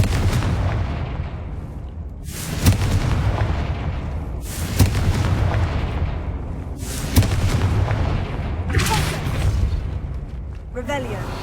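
Confringo spell blasts in Hogwarts Legacy, a series of loud booming explosions about every two seconds, each with a sharp burst and a rumbling tail.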